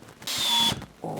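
Power drill driving a screw into wood while building a clamp rack, a single sustained whirring burst of about half a second, close and loud, with brief handling noise before and after.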